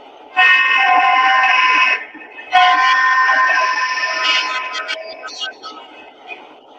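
Horn number 3 of a Legacy SD70ACe model locomotive, two loud sustained multi-tone blasts, the second longer and trailing off, heard close with nothing else over it.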